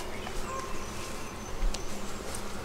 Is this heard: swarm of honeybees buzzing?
yes